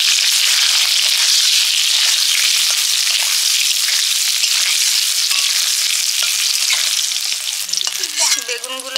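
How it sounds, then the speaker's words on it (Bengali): Eggplant pieces frying in hot oil, a loud, dense, steady crackling sizzle close by, with a brief shift near the end as the pieces are moved, no one talking. "বেগুনগুলো ভেজে নিচ্ছি"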